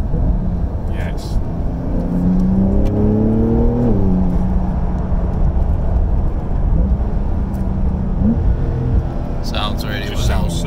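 Porsche 992 Carrera 4S with sports exhaust accelerating in Sport Plus mode on a drive in Mallorca, a loud, close engine rising in pitch through the gears with a steady rumble beneath and brief pops near the end.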